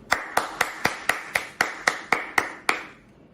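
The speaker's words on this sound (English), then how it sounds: "I would like to give a round of applause to my batchmates, Arjun Kitan, Rachel Wong, Samantha Yo, and" A single person claps about ten times at a steady, even rhythm during a class day ceremony, each clap sharp and close, before the sound stops abruptly.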